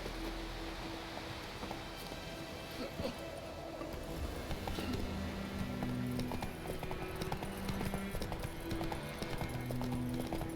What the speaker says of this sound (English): So if I call my horse